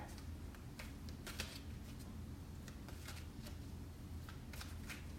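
Tarot cards being shuffled and pulled from the deck during a zodiac reading, a soft continuous riffle with brief papery flicks, close and quiet with no talk.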